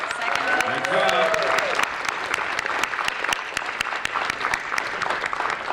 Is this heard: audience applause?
yes